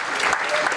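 Audience applause at a staff gathering honoring senior colleagues, a brief, dense burst of clapping heard close and fairly loud.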